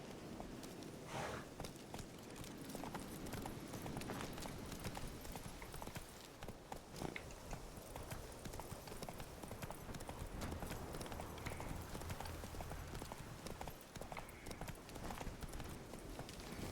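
Roach the horse in The Witcher 3 trotting with a steady, rhythmic clip-clop of hooves throughout, close and fairly quiet, with game ambience and a few brief voice sounds underneath.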